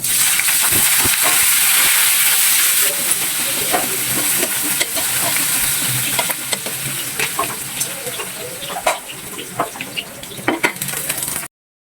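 Garlic and onion sauté in a pan for a coconut-milk sardine dish, a loud steady sizzle and hiss with repeated clinks and scrapes of a spoon stirring against the metal, no talking.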